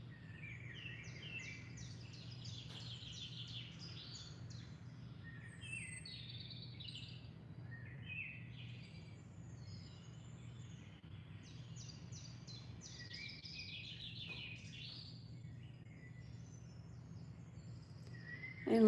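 Birds chirp and trill steadily throughout, several calls overlapping at a moderate distance, over a constant low hum.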